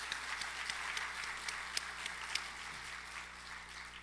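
A church congregation applauds after a Sunday evening sermon, a steady wash of hand claps at moderate distance with a few sharper individual claps standing out, faint room hum beneath.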